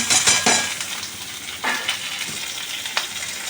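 Chopped tomato and green chilli frying with onion in a pan for chilli paneer, a close, continuous sizzle with bursts of spoon scraping and metallic clinks while stirring.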